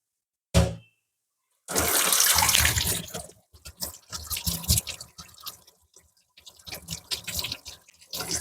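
Tap water runs and splashes while an RO water purifier part is rinsed and turned by hand to wash out black sludge, mud and grime, starting after a short drip, with uneven gushing bursts close by.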